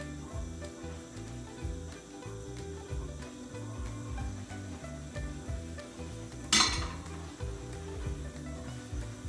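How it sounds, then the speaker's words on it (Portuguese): Carrot cake batter with cocoa and milk being stirred in a bowl, a soft repetitive scraping and rubbing rhythm with one sharp clink partway through. "Nós vamos misturando"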